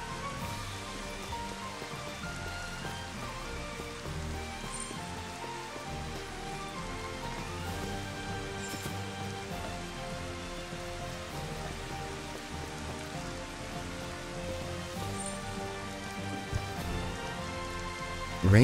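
Steady video game rain from a thrown bomb in Final Fantasy XV Platinum Demo, a dense continuous hiss of pattering drops with faint musical tones underneath, constant in level throughout.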